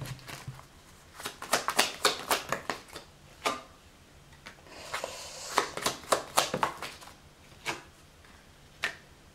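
Tarot cards are shuffled close up in quick, crisp riffling bursts, with soft pauses between clusters of snapping card flicks at a low overall level.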